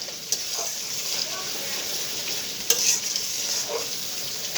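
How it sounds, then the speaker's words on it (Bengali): A spice paste for a vegetable dish fries in mustard oil, with a continuous close sizzle broken by a few sharp stirring scrapes; no one speaks. "এই সবজির জন্য মশলাটা কষে নিচ্ছি"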